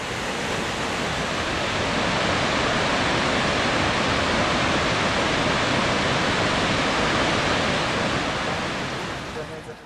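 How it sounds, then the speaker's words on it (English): Victoria Falls on the Zambezi River, where the water plunges over 300 feet into a mile-wide gorge, a constant loud roaring wash of falling water that fades slightly at the end. "The falls are formed when the Zambezi River plunges over 300 feet into a gorge about a"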